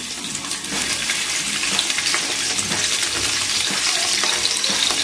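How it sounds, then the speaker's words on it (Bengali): Chopped garlic frying in hot oil, giving a loud, steady sizzle and crackle that carries on throughout, with light stirring scrapes underneath. "এরপর তেলে দিয়ে দেবো রসুন কুচি"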